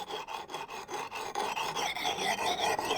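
Rasping strokes of an axe blade being sharpened with a file, an evenly repeated scrape with a steady rhythm, close and fairly loud with no talk, during wood-chopping work in a Caucasus mountain village in Svaneti.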